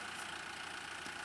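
A tractor engine idles steadily on a sideways slope during fencing work, giving a continuous mid-pitched drone with no talk over it.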